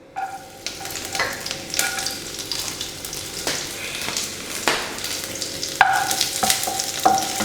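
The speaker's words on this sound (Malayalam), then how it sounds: "ഇനി നമുക്ക് എടുത്തു വെച്ചിരിക്കുന്ന വെളുത്തുള്ളി ഇതിനകത്തോട്ട് ഇട്ട് കൊടുക്കാം." Garlic hits hot sunflower oil and fries with a steady sizzle, broken by the scrape and clink of a utensil stirring in the pan at irregular intervals.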